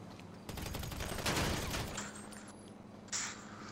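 Gunfire in the GTA 5 game crackles as a short burst of shots around the middle, fairly close but somewhat muffled, followed by quieter game ambience and a brief later rustle.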